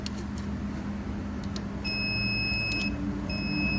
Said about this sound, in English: My buzzer beeps when it gets battery voltage.